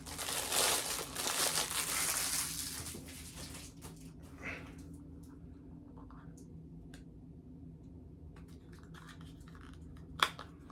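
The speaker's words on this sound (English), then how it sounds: "I'm going to take this plastic off." Crinkly plastic wrapping is peeled and crumpled off a small wrestling-merchandise crate item, loud rustling at first, then softer handling with light taps and a sharp click near the end.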